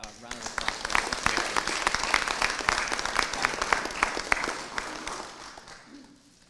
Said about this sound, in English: let's just have another round of applause